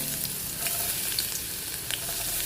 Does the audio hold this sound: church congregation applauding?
no